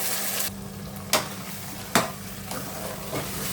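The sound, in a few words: radish sambar masala frying in a pan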